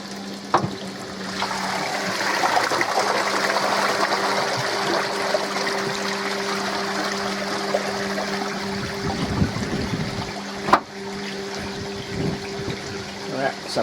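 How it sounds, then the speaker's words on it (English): Water rushes steadily through the bottom drain pipe of a koi pond during a purge, with about a two-foot drop, producing a continuous gushing roar throughout, a few sharp knocks standing out over it. "That's a purge on my bottom drain."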